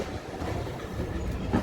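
Rumble and rattle of a passenger train ride through the Lake District, England, a steady close carriage drone with faint track clatter and a brief dropout near the end.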